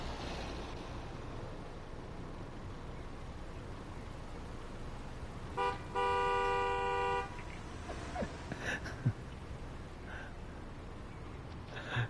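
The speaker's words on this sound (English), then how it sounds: "The cars do beep at you when you cross the level crossing." Car horn at a level crossing in the Train Sim World 3 video game, one sustained honk of about a second and a half rising out of a quiet rumbling background, moderately near, with faint clicks after.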